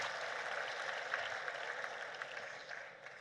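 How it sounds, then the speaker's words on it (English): Applause from a conference audience for a panel on food security in Africa: a steady, soft wash of many hands clapping at a distance, holding evenly for about three seconds before tapering slightly. "Another round of applause for the excellent panel."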